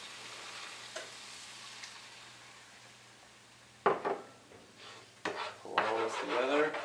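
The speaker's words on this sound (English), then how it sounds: "Pull all this together, make sure you get everything mixed up" Turkey Joes sauce with Worcestershire, vinegar and Coke Zero simmers softly in a pan, then a utensil scrapes and clatters as it is stirred, bringing louder bursts of sizzling and bubbling.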